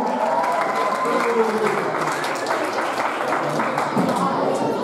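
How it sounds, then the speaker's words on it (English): Applause for a bride and groom at a wedding reception as they head to the dance floor, a steady, dense wash of clapping from a room full of guests lasting throughout, with some crowd voices mixed in. "let's give them a round of applause and welcome them to the dance floor"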